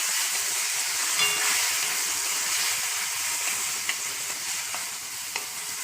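Six medium chopped tomatoes fry in a pan with a steady loud sizzle and hiss, with occasional faint taps as they are stirred.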